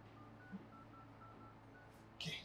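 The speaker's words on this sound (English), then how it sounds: "so I'm dialing it right now" Telephone keypad dialing tones from a phone as a number is entered, a few short beeps spaced apart, faint, then a louder tone burst at the end.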